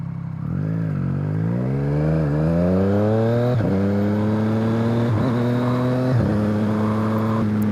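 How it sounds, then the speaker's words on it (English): A Triumph Street Triple motorcycle fitted with a LeoVince LV One exhaust revs loudly and close, its engine note climbing through several gear-like rises with brief dips between shifts, no talking over it. "there you go, there's the exhaust. Sounds fucking beast."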